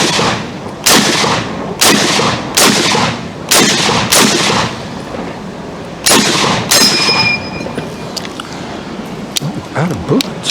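Loud gunfire salute shots ring out at a Memorial Day tribute, about ten sharp reports at irregular intervals, each with a ringing metallic tail and echo.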